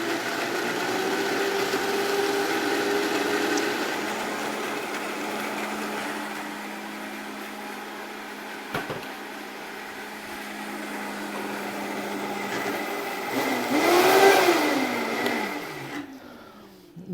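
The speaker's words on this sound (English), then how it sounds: "of food processor that can quickly blend all this together" A food processor blends citrus salad dressing, a steady motor whir with a whining tone that holds throughout, rises into a louder surge near the end, then cuts off.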